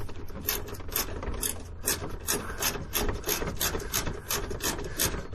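Socket wrench slowly loosening a painted nut on the front fender of a 2017 Ram truck, giving a steady series of rasping ratchet clicks and scraping metal strokes, close and continuous without talk.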